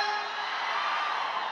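A steady wash of crowd noise, with many voices shouting and cheering together at a constant level, continuing without a break throughout.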